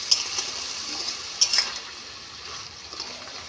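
Dhenki greens (fern shoots) are dry-fried in a pan. A faint background sizzle runs under a few light stirring scrapes of a spatula, heard alone without talk.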